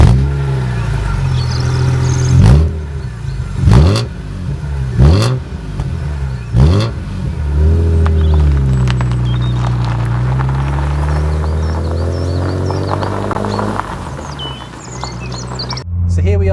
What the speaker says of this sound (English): So here we are driving our fabulous BMW M3 E36.